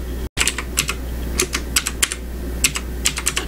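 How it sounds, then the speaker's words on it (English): Keys on a computer keyboard are tapped with one hand in irregular bursts of sharp clicks at close range, with a low steady hum underneath and no talking. "I'm typing with one hand"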